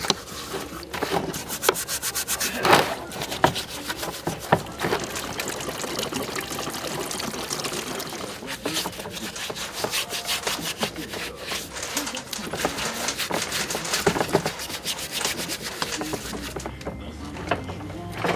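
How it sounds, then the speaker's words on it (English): Old engine parts from a Thwaites dumper are scrubbed clean of grime, giving continuous gritty rubbing and scraping up close with scattered clunks and knocks, steady throughout with no one speaking. "any parts still in good shape needed a thorough scrub to get all that grime off"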